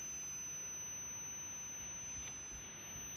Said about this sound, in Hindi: क्लैम्प मीटर को कंटिन्यूटी पर बजर रेंज पर सेट करेंगे।